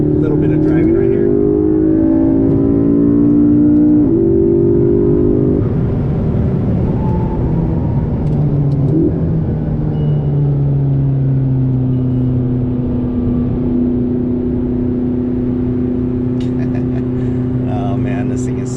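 Car being driven with its engine running steadily, harmonic engine drone shifting pitch as it accelerates and eases off, loud and close from inside the cabin, with someone talking over it throughout.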